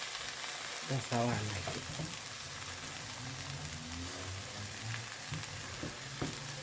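Egusi for a spinach stew fries and is stirred in a pot as it forms chunks, a constant soft sizzle with occasional spoon scrapes, and a voice speaks briefly over it.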